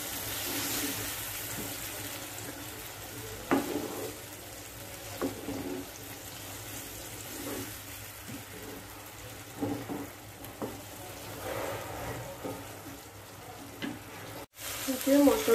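Spice paste with softened onion sautés in oil for a mushroom, pea and potato curry, giving a soft continuous sizzle with repeated stirring scrapes and a faint murmur of voices.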